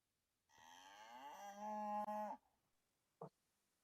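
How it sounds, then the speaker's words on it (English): A cow gives one long, close moo that rises and holds before cutting off, followed by silence and a single short knock. "Hey, that's my cow."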